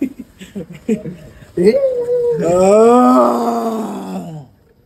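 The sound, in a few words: person imitating a zombie groan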